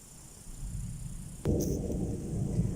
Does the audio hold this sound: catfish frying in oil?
no